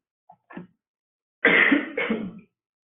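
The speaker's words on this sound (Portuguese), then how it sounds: "Desculpa, estou tossindo muito." A person coughs twice in quick, harsh bursts, close to the microphone, after a couple of faint small sounds.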